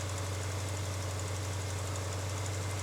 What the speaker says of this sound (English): now we got a weird ticking sound that we didn't have before